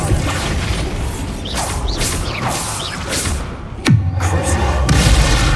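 A Bombarda explosion spell in a Harry Potter video game: whooshing swells and mechanical rumble build to a sudden sharp blast, followed by a loud, sustained booming roar.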